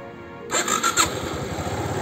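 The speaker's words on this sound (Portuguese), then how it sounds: "E agora eu vou ligar a motocicleta" A motorcycle that had been lifted upright off the ground starts up: quiet at first, then the engine catches with a few quick sputtering bursts and settles into a steady close idle.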